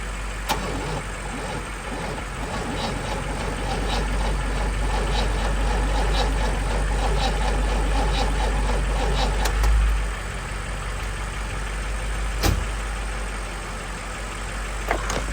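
Car engine cranking after sitting idle, a continuous close rough churning rumble that carries on without catching, with a couple of sharp knocks toward the end and no talk.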